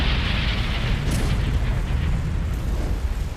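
Massive volcanic eruption in ancient Siberia hurling lava thousands of metres high, a loud sustained rumbling roar with deep low boom and crackling bursts, continuous and dense throughout.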